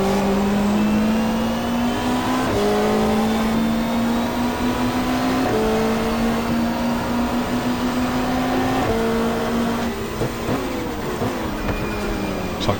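A BMW M3 touring car races in the 1995 Australian Super Touring Championship at Mallala, its engine loud and close with a sustained tone stepping upward through repeated gear changes, no voices.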